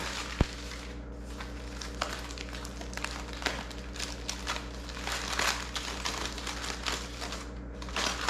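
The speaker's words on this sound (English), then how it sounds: "Unwrap it, see what it looks like here." A smoked brisket, rested warm, being unwrapped from its wrapping, with steady crinkling and rustling plus a few sharp crackles, close and fairly quiet throughout.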